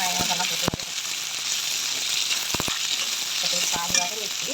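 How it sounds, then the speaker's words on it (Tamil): Onions and eggplant sizzle steadily in a hot pan, a constant frying hiss broken by a few sharp knocks of a spoon stirring against the metal. "வெங்காயம் அதெல்லாம் போட்டு வதக்கும்."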